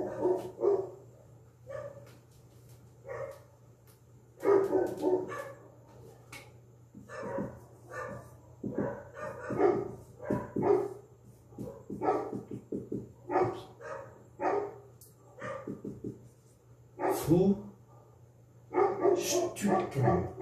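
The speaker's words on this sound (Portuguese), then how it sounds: "Contribuições do cães, dos cães da rua." Street dogs bark in repeated bursts, several loud barks at close to middle distance with short pauses between them, continuing for about twenty seconds with no talk.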